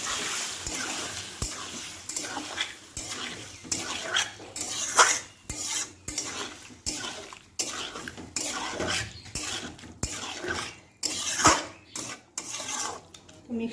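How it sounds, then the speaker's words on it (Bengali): Mushrooms and spices being mixed in a bowl with a utensil: repeated, fairly rhythmic scraping and clinking strokes, close and clear, with short pauses between bursts. "এবার আমি ভালো করে মিক্স করবো সব কিছু।"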